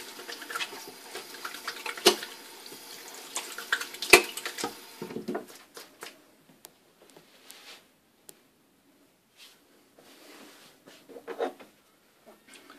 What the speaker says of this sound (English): I'm gonna run my hands through some water.